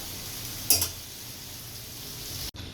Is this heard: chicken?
no